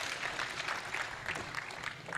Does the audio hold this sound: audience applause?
yes